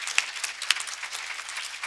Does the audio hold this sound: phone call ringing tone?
no